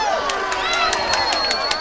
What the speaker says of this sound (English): Water Valley fans cheer.